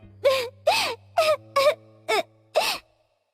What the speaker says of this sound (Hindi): वहां अचानक उसे किसी के रोने की आवाज आने लगी।